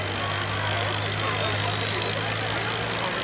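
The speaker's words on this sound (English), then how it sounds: "You can hear the little four-cylinder engine." A pulling tractor's small four-cylinder engine runs at a fair, a steady loud drone with a low harmonic hum that holds even and continuous throughout.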